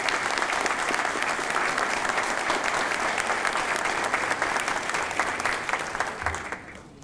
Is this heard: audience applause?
yes